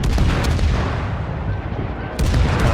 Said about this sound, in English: Laying some effective fire down on him